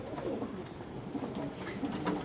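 Pigeons coo softly and continuously at close range, a low murmuring chorus from several birds kept together, with no talking.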